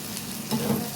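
A curry mixture of egg curry ingredients is stirred and fried in a pan, giving a brief steady sizzle with a soft scraping stir.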